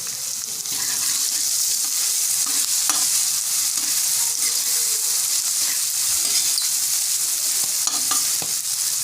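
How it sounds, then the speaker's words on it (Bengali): Vegetables sizzle and fry steadily in a pan for vegetarian chow mein, with occasional scraping clicks of a spatula stirring, close and continuous. "লবণ আর হলুদ দিয়ে দাও লবণ কিন্তু আমাদের পরিমাণ মতন দেবে আচ্ছা দাও নাড়াচাড়া করো"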